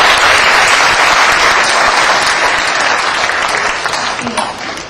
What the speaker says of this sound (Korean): 시상을 도와주신 여관종 교수님께 박수 부탁드립니다.